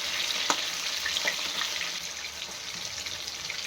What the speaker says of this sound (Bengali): আমার মাছগুলো হালকা ভাজা হয়ে গেছে এবার উঠিয়ে নেবো